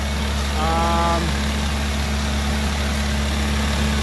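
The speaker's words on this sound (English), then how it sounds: "So I got it started, but I found a boost leak" A Ford Focus ST engine idles steadily with a boost leak in the charged-air intake, a loud, constant low drone close by with a brief whistling tone early on and no talking.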